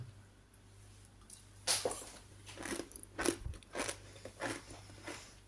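Crunchy homemade fermented cabbage sauerkraut is bitten and chewed close up, a series of wet, crisp crunches in an uneven rhythm, quiet and without talk.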